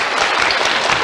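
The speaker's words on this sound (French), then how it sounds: "Je crois qu'on peut l'applaudir." Studio audience applauding after Julie's strawberry cake on a French TV show, a dense steady wash of clapping filling the whole moment with no talk over it.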